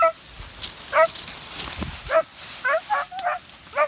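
Several hunting dogs bark and yip repeatedly in forest during a pest hunt near Solok, West Sumatra, irregular bursts at moderate distance with faint background noise and a little voice.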